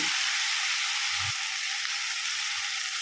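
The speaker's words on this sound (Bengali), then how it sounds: "টমেটোটা আমি একটু নাড়াচাড়া দিয়ে নিচ্ছি যাতে টমেটোটা গলে যায়।" Tomatoes frying with a little salt in a pan for a spicy fish curry give a steady, loud sizzle and hiss throughout, with a few soft low scrapes from stirring.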